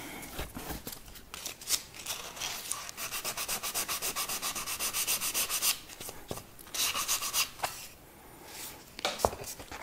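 Sandpaper rubbing over a wooden floating wine holder in a workshop, a steady close scratching in repeated back-and-forth strokes with brief pauses.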